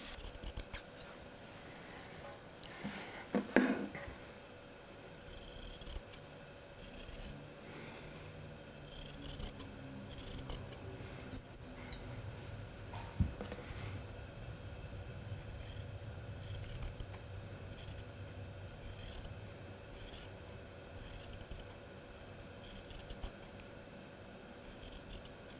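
Scissors trim a fabric seam allowance with repeated soft snips and rustling cloth, steady and close throughout, with no speech.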